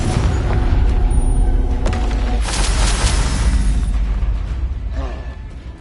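Confringo fire spell blasting in the video game Hogwarts Legacy: a loud, dense fiery explosion with booming low rumble and crackling bursts, sustained for several seconds before tailing off.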